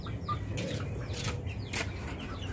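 Chickens cluck in a coop after being moved there, soft calls and brief wing flutters scattered over a steady farmyard murmur, close and moderately loud with no talk.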